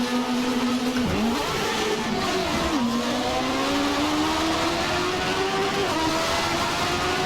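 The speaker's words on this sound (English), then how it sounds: "in a 1993 Formula 1 car" A 1993 Formula 1 car's engine screams steadily in a racing video game, pitch climbing through gear changes with brief dips near one and three seconds, loud and continuous with no voices.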